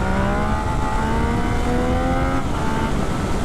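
A 2019 Yamaha XSR900 engine rises in pitch as the throttle is wound on, a loud, close, continuous rev with wind rush, briefly dipping as the throttle eases back before climbing again.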